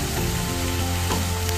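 Turmeric, red chili powder and dried red chilies sizzle as they are sautéed in a pan, a soft steady crackle and hiss running throughout with no talking.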